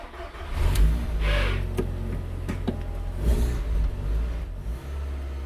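A repaired Renault Clio with an Audi 1.8T engine revs and pulls away nearby, a steady low hum rising with brief higher mechanical whines and clicks.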